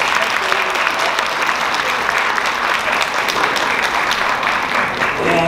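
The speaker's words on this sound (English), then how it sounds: "Can we please have another round of applause?" Sustained audience applause after a piano sonata performance at a college Chinese dinner event, steady and dense throughout, with a faint voice near the end.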